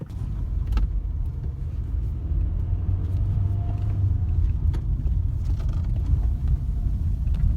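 A 2013 Honda Accord with its clutch delay valve removed drives along with a steady low engine and road rumble from inside the cabin, with faint clicks as it shifts into gear.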